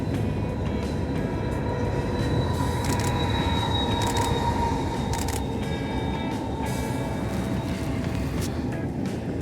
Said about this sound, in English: It's actually a long train.